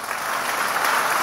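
Church congregation applauding together, a dense, even wash of many hands clapping at steady loudness, close and filling the space without speech.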